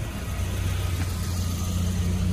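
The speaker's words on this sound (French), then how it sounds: "Il y a un Golf GTI. Ouais, c'est bon, il va pouvoir passer." A Volkswagen Golf GTI passes nearby at a classic-car gathering in Massy, its engine a steady mid-pitched hum with a faint swell midway, continuous over a couple of seconds without speech.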